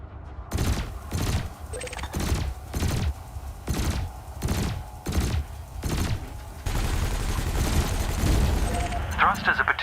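Ship cannon fire in Elite Dangerous, about nine heavy booming shots spaced roughly a second apart, each with a short rumbling tail, giving way to a sustained dense roar of continuous weapon fire.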